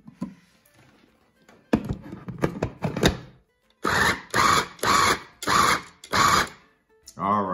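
Food processor pulsing butter, sage and almonds: a cluster of quick chopping thunks, then five loud, even bursts of motor whir separated by short gaps, heard close.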